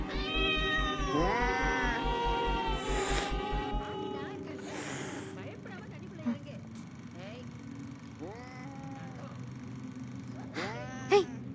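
A cat meows several times in a rising, drawn-out way, with a steady low rhythmic buzz and other background sounds early on, then a few shorter calls near the end.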